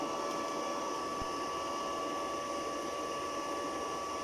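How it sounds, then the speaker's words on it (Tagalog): A Kawasaki Mini-300A welding machine, switched on and running, gives a steady electrical hum with a thin high whine and a faint fan-like hiss, constant and close, with one tiny click near the start. "Tapos on natin yung welding"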